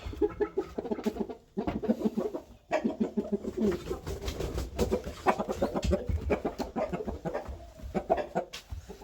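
A rooster clucks and calls in short, busy bursts close by, with other fowl and pigeons around, a farmyard feel and occasional indistinct voices.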